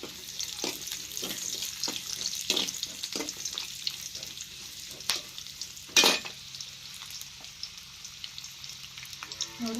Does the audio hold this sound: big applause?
no